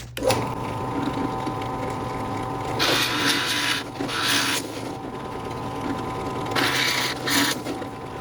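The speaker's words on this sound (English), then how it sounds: "I'm using an 1 1/4 Forstner bit to drill the holes." A 1 1/4 inch Forstner bit bores holes through wooden arch panels, a steady close motor whine with louder grinding bursts each time the bit bites into the wood, with no talking.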